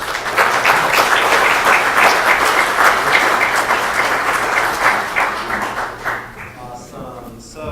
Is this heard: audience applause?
yes